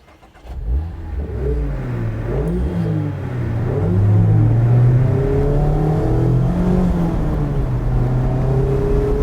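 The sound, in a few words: 2-liter four-cylinder car engine accelerating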